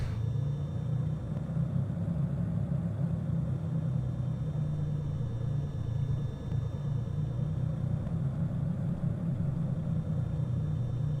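A Baron aircraft engine in X-Plane idles while back taxiing on a runway, a steady low droning rumble that holds even and unbroken throughout, moderately loud with no talk over it.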